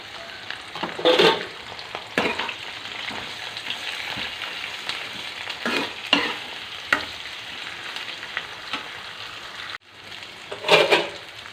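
Bitter gourd pieces fry in oil on a low flame, giving a continuous soft sizzle broken by several louder bursts of stirring and scraping in the pan, with no voices.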